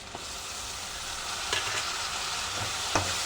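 Curry leaves, green chilies and tomato hit a hot pan for a spicy eggplant tamarind curry, giving a loud, continuous sizzle and spatter with a few stirring knocks, no talking.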